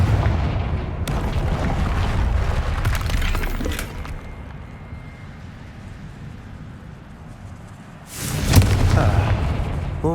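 Booming spell blasts from a wizarding video game set at Hogwarts, a fiery Confringo explosion with a loud burst at the start and another heavy blast near the end, rumbling crackle between them.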